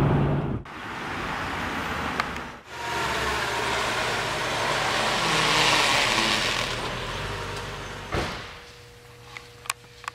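A Mercedes-Benz E55 AMG with 469 horsepower accelerates hard, its broadband engine roar building and holding loud for several seconds between brief gaps, then cutting off near the end.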